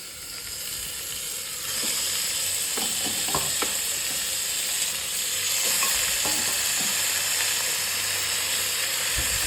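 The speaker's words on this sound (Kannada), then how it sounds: "ಈಗ ಈರುಳ್ಳಿ ರೋಸ್ಟ್ ಆಗಿದೆ. ಈಗ ಮಟನ್ ಹಾಕ್ಕೊಳ್ಳೋಣ." Fresh mutton, about three-quarters of a kilo, sizzles steadily in a pan with roasted onions, while a utensil stirs and scrapes intermittently throughout.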